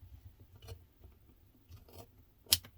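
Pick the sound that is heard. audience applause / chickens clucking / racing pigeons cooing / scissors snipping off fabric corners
scissors snipping off fabric corners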